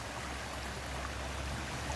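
Water flows steadily through an artificial creek fitted with bumps to regulate the flow, a continuous broadband rush heard close and alone, with no talk.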